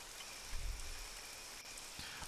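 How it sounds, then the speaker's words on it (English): Rain falls steadily in the Neverwinter Nights game world as a soft, even patter, quiet and distant, with a faint low rumble near the start and no talking. "I really like that rain sound."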